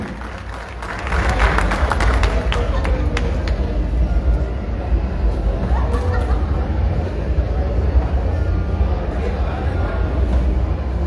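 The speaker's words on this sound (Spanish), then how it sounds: "Fuerte el aplauso para los constructores de La Pedatera" A crowd at the closing ceremony of a town festival gives long, loud, sustained applause that fills the whole stretch, with a speaker's voice over it.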